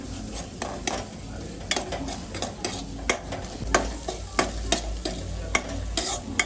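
Turmeric, coriander-cumin powder and asafoetida being stirred into paneer bhurji in a pan, with repeated sharp spoon scrapes and knocks over a low sizzle, close and rhythmic.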